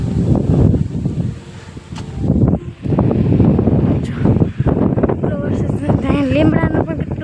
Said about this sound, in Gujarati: પવન પણ એટલો ઘણો બધો છે